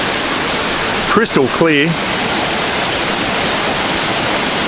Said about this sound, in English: get a good view of the waterfalls. As I said, still enough water coming down there.